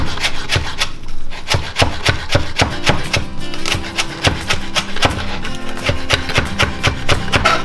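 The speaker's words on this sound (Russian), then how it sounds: "Теперь мы с вами порежем петрушку." A knife chops fresh parsley on a board for a vegetable salad, a steady run of quick, sharp taps and rubbing strokes, close and fairly loud with no talking.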